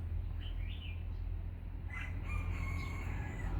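A Lao rooster crows loudly, with a long cock-a-doodle-doo call near the end over steady low background hum, and fainter bird calls earlier.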